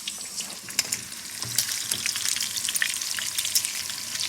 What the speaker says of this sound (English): the bacon around the edges is actually going to cook faster than the bacon in the middle